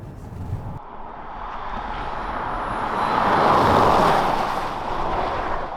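Steady road and tyre noise inside a Hyundai IONIQ 5 dual-motor electric car cruising on a highway, a continuous broadband rumble that swells a little midway and carries on without talk.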